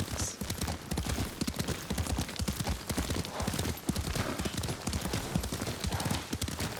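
Horse hooves in Ghost of Tsushima clop in a steady galloping rhythm while riding, a close and continuous beat that carries through the whole stretch.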